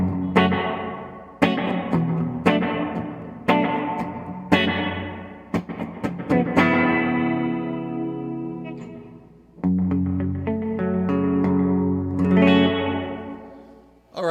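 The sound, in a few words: room reverb effect from guitar pedal with pre-delay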